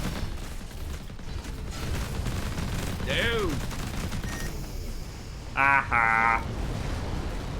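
Repeater cannon in the Between the Stars space game fires in a dense, rattling stream under constant engine drone, with two brief bright electronic bursts near the end and a voice exclaiming over it.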